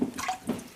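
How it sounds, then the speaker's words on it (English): Fuchsia fabric dye being poured from a container, a brief soft splashing trickle of liquid heard up close for under a second, with no voices. "I'm going to pour this in."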